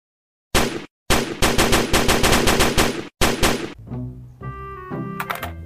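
A plastic toy machine gun fires loud rapid bursts of electronic rat-a-tat, broken by short pauses, then gives way to brief tinny melodic beeps from the toy.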